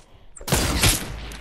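A single sharp, loud sniper rifle shot bursts out after a brief quiet lead-in in the Fortnite video game, followed by a rumbling echo that decays into steady background noise.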